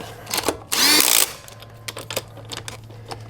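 A Ryobi impact wrench with a chrome socket tightens car wheel lug nuts in one short, loud whirring burst, followed by clinks and light handling sounds.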